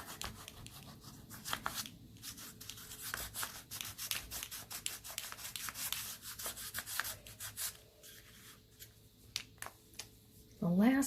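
Colored pencil rubs back and forth on paper to smooth a sky area, rapid scratchy strokes close to the microphone in uneven bursts, with a person talking softly over them.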